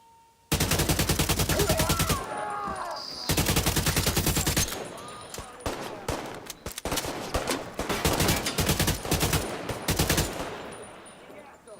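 Automatic AK rifle fire from The Division 2 video game, rattling in long loud bursts with short gaps, then choppier volleys and scattered shots, close and dominant with no talk.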